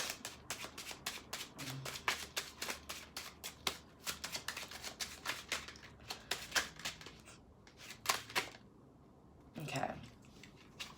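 Tarot and oracle cards shuffled by hand during a reading, a long run of rapid, close, papery riffles and taps with short pauses, ending in a softer burst.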